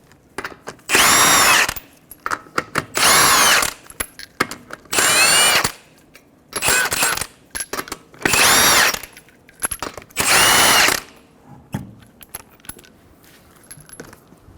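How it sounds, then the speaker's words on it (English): An impact tool removes 21mm lug nuts from the front wheel of a 2014-2019 Toyota Highlander in six loud, close bursts of rattling whir, about a second each, separated by quiet gaps with light metallic clinks. "Remove your 5 21mm lug nuts."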